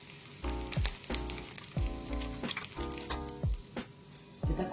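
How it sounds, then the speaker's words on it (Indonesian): Sambal chili sauce fries in oil in a pan, a steady close sizzle with crackling spatters and repeated bursts of scraping as it is stirred. "tinggal goreng sambalnya."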